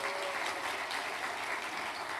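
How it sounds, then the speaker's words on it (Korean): Steady, dense applause from a church congregation during a worship service, continuous clapping at an even loudness throughout with no voices over it. "우리 귀한 자녀들에게 다시 심찬 격려의 박수 하겠습니다."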